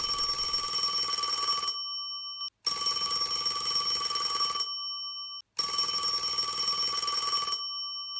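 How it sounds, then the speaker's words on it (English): A telephone rings three times, each long electronic trill loud and close, separated by short silences, with no voices. "Bob and Linda sat up sharply, letting the phone ring 3 times"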